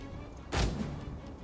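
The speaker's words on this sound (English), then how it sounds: "Field artillery ready. Ballista!" A single deep thump of a Roman ballista launching in a Total War: Rome II battle, with a low booming release over steady battlefield rumble.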